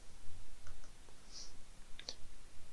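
A computer mouse gives a few sharp, faint clicks in a quiet room while someone works in Microsoft Excel. The clicks are spaced out and there is no speech.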